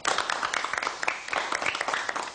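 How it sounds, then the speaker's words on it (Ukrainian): Brief, fairly faint round of clapping from a small group at a historical knights event in Kamianets-Podilskyi, with scattered individual claps audible. "Оплески, значить, тобі ще раз."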